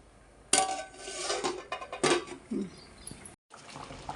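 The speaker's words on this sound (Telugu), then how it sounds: "ఇంకా మూత అయితే పెడుతున్నాను" Metal pot lid clinks and clatters onto a pot of fish curry, a sharp clang followed by a few lighter knocks and scrapes at close range, fairly quiet overall with no speech.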